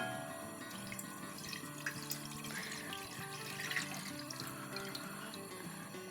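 One litre of regular milk poured from a container into a cooking pot on the stove, a faint, close trickling and splashing that runs steadily throughout.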